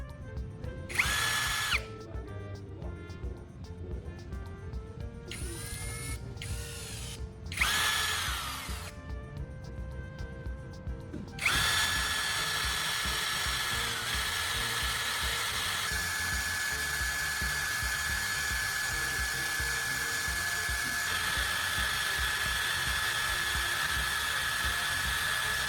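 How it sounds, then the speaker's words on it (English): A small high-pitched power tool grinds a battery carbon core to a point, starting in short bursts with pauses, then running continuously at a steady whine. "Once it's cleaned, we'll sharpen one end of the battery core."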